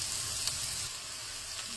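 Oyster mushroom pieces fry in hot oil in a pan, a steady soft sizzle heard close and alone, without any talk.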